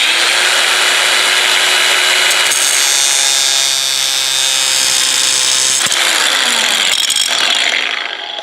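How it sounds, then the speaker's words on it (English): Power tool cutting a nub off a plastic side panel from a 2024 KLX300 dirt bike, one loud sustained whining, buzzing cut close to the microphone that tapers off in the final second. "I'm going to show you how I cut this nipple off and how I'm drilling through."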